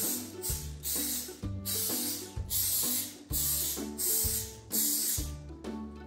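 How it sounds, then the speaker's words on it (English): Olive oil cooking spray hisses onto a muffin tin in a kitchen, about six short close bursts in quick succession, each a bright sharp spray with brief gaps between them. "So I'm going to go ahead and spray my muffin tin so that our egg muffins don't stick."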